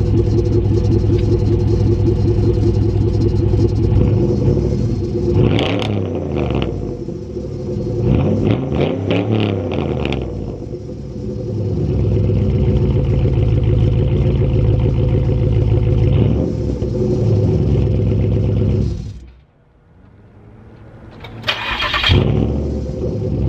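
A Buick LaCrosse Super engine revs loud and close, with several rising and falling throttle blips over a steady idle, then a brief drop near the end before it picks up again.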